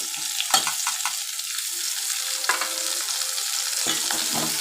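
Tomatoes fried with eggplant curry base in a pan, a loud continuous sizzle broken by several distinct stirring scrapes of a spoon, close up with no talking.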